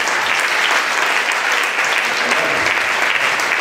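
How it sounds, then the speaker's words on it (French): Continuous applause from a live concert audience, dense and uniform throughout, with no break in the clapping. "je crois qu'on peut l'applaudir"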